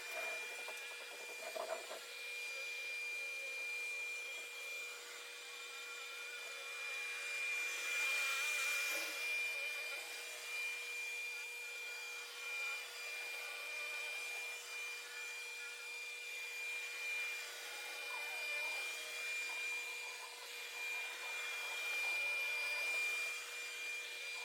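An Ecovacs Deebot Omni X1 robot vacuum cleans a floor, giving a steady, fairly soft whir with a faint tonal hum and gentle swells as it moves, with no talking.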